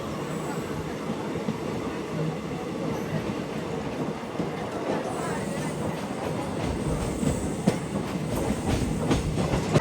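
A DEMU train rolls into a junction railway station with a continuous low rumble of wheels on track and rhythmic clickety-clack, growing slightly louder toward the end with sharp metallic clicks over points.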